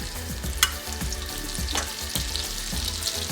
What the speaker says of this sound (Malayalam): ഓയിൽ ചൂടായി കഴിയുമ്പം 3 ടേബിൾ സ്പൂൺ ബട്ടറും കൂടെ അതിനകത്തോട്ട് ആഡ് ചെയ്യുക.